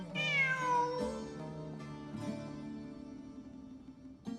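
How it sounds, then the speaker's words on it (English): A cat in Genshin Impact meows once, drawn-out and clear and close, followed by softer mewing sounds over quiet game music, with a short sharp noise at the end. "Look! A cat!"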